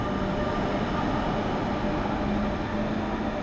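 A train hauled by the Husarz EU47008 electric locomotive arriving at a station platform, heard as a steady, loud rumbling roar with a faint electric hum, continuous and unbroken with no voices.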